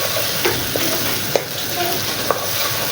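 Finely chopped onion being stirred in hot oil in a pan for restaurant-style daal, giving a continuous loud sizzle broken by a few sharp spoon-against-pan clicks.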